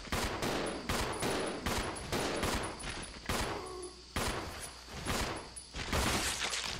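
Resident Evil Zero gunfire: a string of loud, sharp shots with a clattering crack to each, fired in irregular bursts of two or three with short gaps, close and dominant, with no talking.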